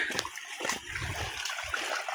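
Water splashing and trickling as someone wades through a shallow flooded path near a Khodiyar shrine, a continuous close wash of churning water with a few sharper splashes.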